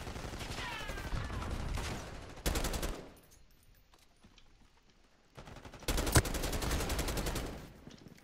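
Bursts of rapid gunfire in a Black Ops 6 beta multiplayer match, loud volleys at the start and near the end with a quieter lull between, as if fired from several directions.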